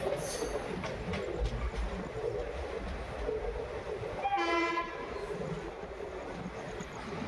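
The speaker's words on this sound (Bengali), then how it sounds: "আমাদের ট্রেন গোয়ার বিখ্যাত মান্ডবী নদীর উপর দিয়ে ছুটে চলেছে" A passenger train running across a bridge over the Mandovi river in Goa, with a continuous rolling rumble and a short horn blast partway through.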